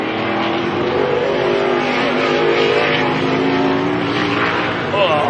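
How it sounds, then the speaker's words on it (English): A Ford Mustang NASCAR Xfinity race car roars loudly and steadily at a raceway, its engine note sustained and dense throughout, with crowd and ambient track noise beneath. "And here's the Xfinity Mustang."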